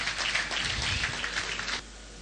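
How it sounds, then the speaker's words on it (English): Audience applause for Professor Pat Utomi at the Indomie Hero Awards, a sustained wash of clapping from a crowd that cuts off abruptly, leaving only room hum. "A round of applause for him, please."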